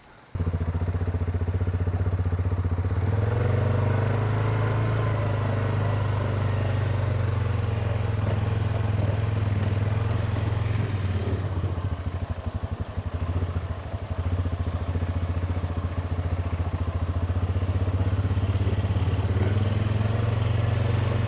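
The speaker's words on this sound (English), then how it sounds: "I'm hoping you can hear me over the engine." A loud quad bike engine runs steadily close by on a grass trail, with a deep rumble and rattling clatter, revving slightly as it moves.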